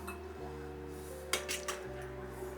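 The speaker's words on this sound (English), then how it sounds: "I'll just put them into a strainer sieve" Fried potato and onion omelette filling tipped into a metal strainer sieve gives a few light clinks and scrapes close by, over a steady kitchen hum.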